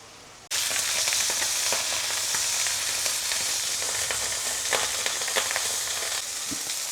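Meat sizzles loudly in a hot pan for French-style meat, the frying starting suddenly and holding a dense, steady crackle with occasional sharper pops and stirring scrapes.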